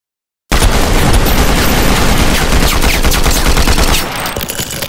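Rapid, loud gunfire sound effect, a dense burst of repeated shots that starts abruptly and carries on for about four seconds before easing to a quieter rattle; no speech.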